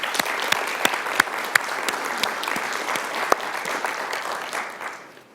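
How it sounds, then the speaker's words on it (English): An audience at a city event applauds staff, a dense wash of clapping with a few sharp individual claps standing out, steady and fairly loud before thinning at the very end. "Let's have a round of applause for them."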